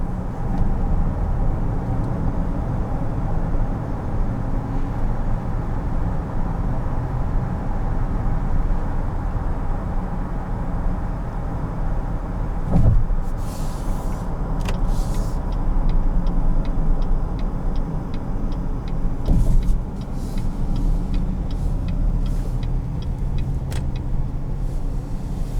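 A 2021 GMC Acadia Denali with the 3.6 V6 hums steadily from inside the cabin while driving, a continuous low engine and road drone with a few faint clicks and ticks, no talk.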